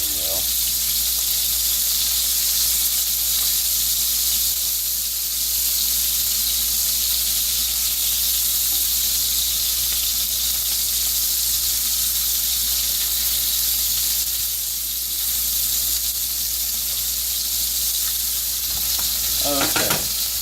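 Sausage fries in a pan with a steady, close, continuous sizzle and hiss that runs unbroken throughout, with no speech over it.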